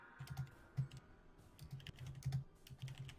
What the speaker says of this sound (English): I think we can hear your keyboard